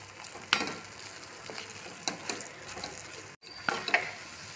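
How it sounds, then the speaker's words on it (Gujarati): Semolina and milk are stirred in a pan, giving soft scraping strokes and faint bubbling at a slow, uneven rhythm, close and quiet with no talk. "બધું દૂધ રવામાં નાખી દીધું છે મેં અને થોડીક વાર આવી રીતે બધું મિક્સ કરી લઈશું"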